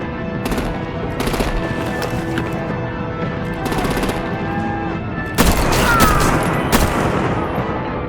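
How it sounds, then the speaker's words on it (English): Gunfire and artillery in the Batman Telltale game: steady bursts of automatic fire rattle throughout, with a heavier blast around the midpoint and a louder stretch of shooting and impacts near the end. "Bring out the artillery and disable their vehicles!"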